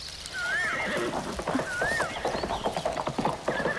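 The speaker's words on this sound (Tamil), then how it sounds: "குதிரை சத்தம் கேக்குது இல்ல?" A horse in a Tamil television drama scene whinnies twice with rising and falling cries, then its hooves clop irregularly, all fairly close and clear with no talk.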